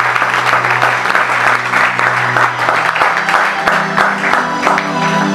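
A church congregation applauds steadily for several seconds, the dense clapping near and loud with crowd voices mixed in.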